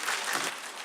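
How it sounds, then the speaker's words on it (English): Brief burst of audience applause at a town meeting, a dense wash of clapping from many hands that tapers slightly near the end. "I will not tolerate applause or booing"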